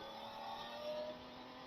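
2024 Yamaha MT-09 motorcycle engine humming at a steady cruise, a continuous smooth drone with faint wind noise, heard briefly and fairly quiet.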